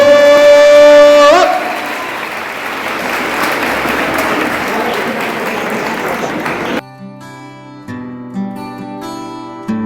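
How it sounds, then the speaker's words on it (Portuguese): Audience applause at a talk on racial equity, a loud wash of clapping mixed with a held musical tone at the start, cutting off into quiet music. "Uma salva de palmas para Helena Bicha do Santo."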